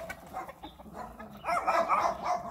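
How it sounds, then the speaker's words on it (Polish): Farm dogs bark in a burst of overlapping yaps amid clucking chickens on a small homestead, the barking rising louder midway through. "czas się chować, bo pieski szczekają"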